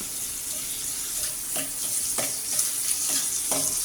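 Ingredients sauté in oil with curry leaves in a pan for sambar, a steady close sizzle broken by a few short scraping stirs, with no talking.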